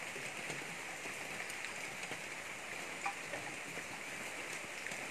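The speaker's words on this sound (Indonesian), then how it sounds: "kita berada dalam suasana hujan. Hujan yang renyai-renyai." Light drizzling rain falls steadily at 4 a.m. in a garden, a constant soft hiss of fine drops with occasional faint ticks of droplets landing nearby, no voices.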